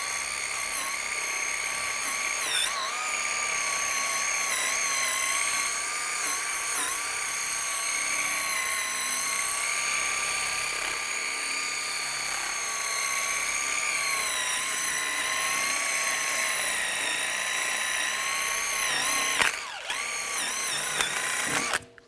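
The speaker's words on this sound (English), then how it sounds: "Now I'm going to clean up the hub area. You can use a wire brush or a die grinder." Die grinder or wire brush tool spinning steadily against the front brake hub of a 2004-2010 BMW X3, a loud continuous high whine running nearly unbroken, with a brief dip near the end.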